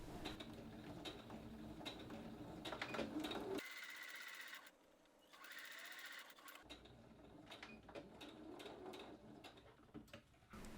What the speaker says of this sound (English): Sew the darts closed on the shell layers.